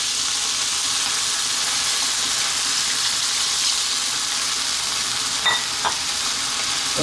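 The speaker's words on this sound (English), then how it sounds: "so I'm just going to add some water." Beef sizzling steadily in a hot pan with water just added, a continuous close frying hiss and steam with a brief stir or clink near the end, no talking.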